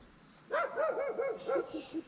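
A human voice imitates a dog barking, giving a rapid string of about six rhythmic woof-like yelps at moderate volume, heard close and alone during a family holiday outing.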